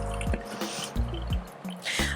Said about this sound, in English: I can pour a little bit at a time because I don't want to flood the bed